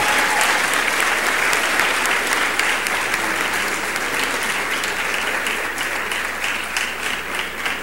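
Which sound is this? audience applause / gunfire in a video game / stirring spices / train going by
audience applause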